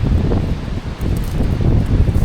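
Strong wind gusts across steep canyon country, a loud rushing roar that buffets the microphone and swells and dips over a couple of seconds, with no voices.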